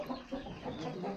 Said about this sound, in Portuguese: Galo pra todo lado. Os galos, uma galinha